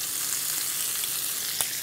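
Onion and tomato fry in oil in a pan with a steady, dense sizzle that carries on without pause and no one talking.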